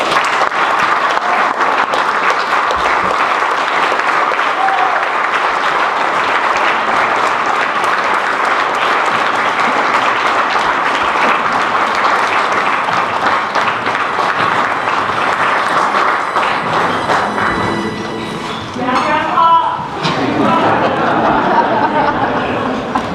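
Audience applause at a Ventura County Educators Hall of Fame induction ceremony, steady and dense across the room for most of the span, then thinning toward the end as a few voices and chuckles come through.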